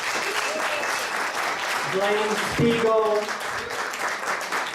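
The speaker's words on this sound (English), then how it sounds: "another big, big round of applause for the incredible Adeena Karasick," Audience applause at a jubilee celebration of Adeena Karasick and bill bissett collaborations, a steady wash of clapping that runs through the whole moment while someone speaks over it.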